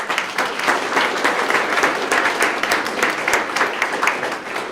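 Sustained applause from a ceremony audience honoring newly promoted police officers and their families, a dense steady wash of many hands clapping at even loudness throughout, with no voices standing out.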